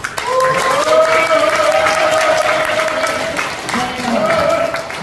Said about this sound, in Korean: 우리 홍석기 교수님께 다시 한번 뜨거운 박수 부탁드리겠습니다